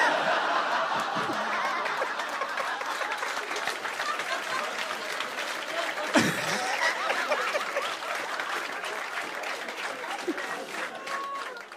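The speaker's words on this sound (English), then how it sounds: "Yeah, you're all clapping now." A comedy club audience claps steadily and fairly loudly throughout, mixed with scattered laughter and chuckles, with a brief thump partway through.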